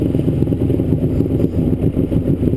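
A 1999 Kawasaki STX 1100 jet ski engine idling while suspected of plugged inline fuel filters, a loud, close, steady low rumble with slight uneven pulsing throughout.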